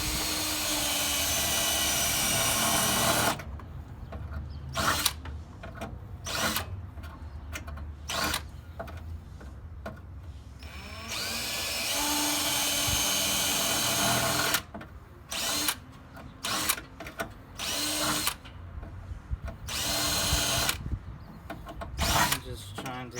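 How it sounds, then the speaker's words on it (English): A power drill bores out spot welds on the crash-damaged core support of a third-generation Toyota 4Runner, in loud grinding bursts of several seconds each, separated by brief pauses and quieter handling noise. "You continue this process to drill the spot welds and peel it off the body."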